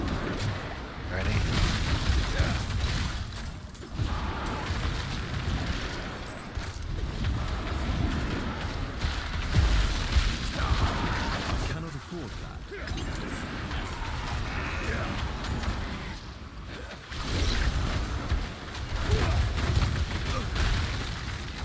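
Hydra fireball spells fire rapidly in Diablo 4, a dense stream of booming bursts and fiery pops that pulses in waves with brief lulls, while someone talks over the barrage.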